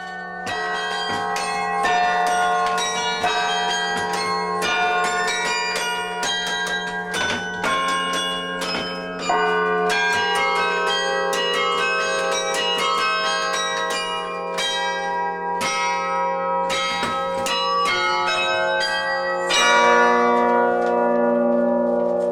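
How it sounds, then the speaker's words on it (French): Tuned carillon bells ring out a continuous melody, many overlapping chimes sounding clearly and resonantly with long ringing tails. "Je suis venue écouter ce carillon."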